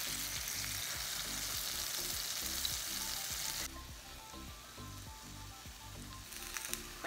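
French toast fries in a non-stick skillet with a dense, steady crackling sizzle close up, easing slightly partway through, along with a few faint bumps and no speech.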